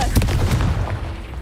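A Confringo fire spell blast from the Hogwarts Legacy game, a loud, close burst of explosive booms with a brief rumbling tail, packed into about a second and a half.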